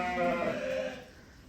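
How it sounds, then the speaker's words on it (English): Lambs and sheep bleat on a farm in one loud, close, wavering cry that fades out within a second or so. "So that's all the lambs together, just the lambs."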